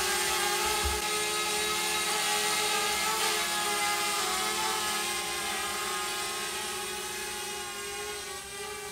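A DJI Spark drone hovers and flies with a steady high-pitched whine of small propellers, its even buzz fading slightly toward the end, with no one talking.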